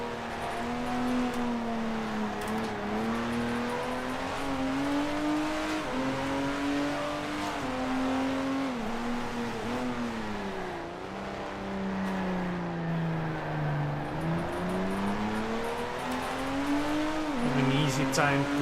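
A 1960s Grand Prix race car engine roars in Grand Prix Legends, its pitch rising and falling through the gears over a chicane, loud and continuous, with a voice talking over it.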